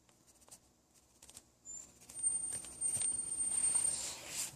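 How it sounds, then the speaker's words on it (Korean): Staedtler Mars Lumograph graphite pencil scratching on paper, heard close up as soft, irregular strokes that grow denser and louder in the second half, with a faint high tone in the background. "루머그래프의 소리입니다."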